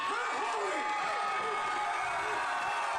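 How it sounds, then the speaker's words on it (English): Wrestling arena crowd cheering and roaring on their feet after a heavyweight title match, a loud continuous wall of voices and clapping under an excited commentator talking. "And listen to the crowd. They are still on their feet"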